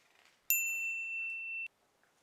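A single bright doorbell ding rings out clearly in a quiet room and sustains for about a second before cutting off, in a children's story about a baby koala's birthday party.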